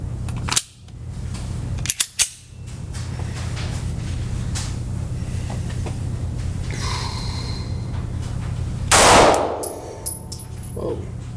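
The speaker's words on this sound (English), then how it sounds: "Shooting the P365X Macro." A Sig Sauer P365X Macro pistol fires a few sharp, loud reports spaced apart, with one bigger blast near the end over a steady low background hum.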